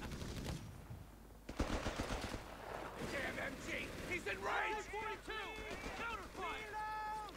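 Machine-gun fire in a Company of Heroes 3 battle comes in rapid, rattling bursts, strongest in the first half and then scattered, while a commentator talks over it.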